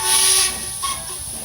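A loud, hissing steam whistle from a toy-like animated steam engine blasts briefly, then fades into a softer airy hiss with a faint second toot.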